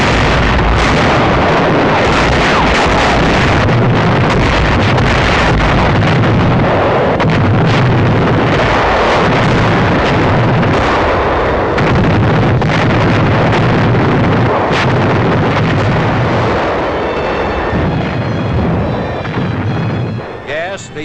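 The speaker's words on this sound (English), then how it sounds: "Rendova shore installations come within range of our big naval guns." Big naval guns shelling Rendova shore installations in 1943 newsreel footage, a dense continuous roar of heavy blasts and rumble, loud and unbroken throughout, with narration faintly under it.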